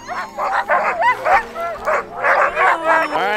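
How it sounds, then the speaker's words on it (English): Sled dogs in snowy Norway bark and yip eagerly in a rapid, overlapping chorus, close and loud, with brief whines between bursts and no clear talk. "the dogs are so anxious to go and barking."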